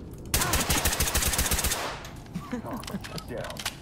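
Gunfire in the tactical shooter Ready Or Not, a rapid burst of automatic shots lasting about a second and a half, loud and close, followed by scattered clatter and faint voices.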